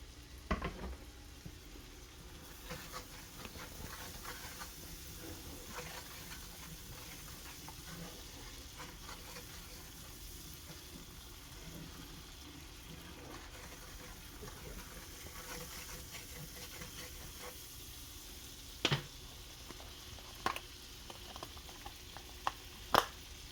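Onions with cayenne pepper frying in a pan, a continuous soft sizzle with scraping stirs and a few sharper utensil knocks toward the end, close but fairly quiet.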